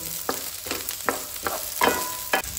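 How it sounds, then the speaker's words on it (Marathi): Onion fries in oil for a Goan egg drop curry, a continuous close sizzle punctuated by regular scraping strokes as it is stirred toward golden brown. "कांदो जो आसा पळय न्हू तो आमकां आतां बरो गोल्डन ब्रावन जाय मेरेन हितून भाजून घेवपाक जाय"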